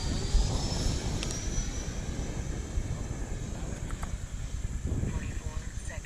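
A Freewing T-45 Goshawk 90mm electric ducted-fan RC jet flying at mid rate, giving a steady whooshing turbine-like whine with a high tone on top, continuous and fairly close, with wind noise and people talking around it.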